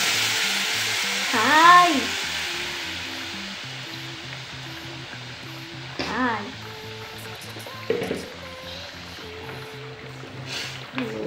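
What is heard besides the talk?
blended biryani mixture frying and sizzling in a pot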